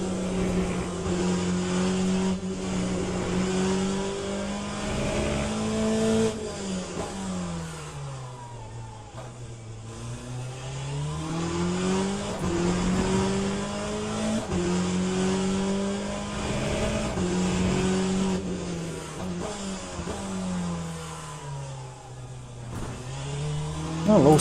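Race car engine in Le Mans Ultimate revving continuously and loudly, its pitch climbing and dropping through repeated upshifts and downshifts, with no voices over it.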